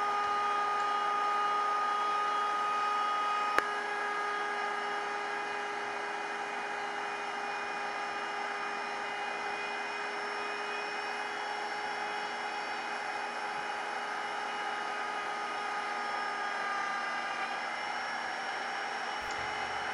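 CNC router making an aggressive straight-in inlay cut 6 mm deep, a steady high whine with layered tones holding for the whole stretch and one sharp click early on.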